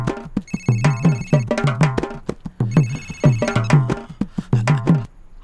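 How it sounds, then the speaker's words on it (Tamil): Mobile phone ringing with a loud, fast electronic melodic ringtone, bright rhythmic beeping tones repeating steadily and continuously throughout, close by with no talking. "என்ன எனக்கு ஃபோன் வருதுன்னு பார்க்குறீங்களா?"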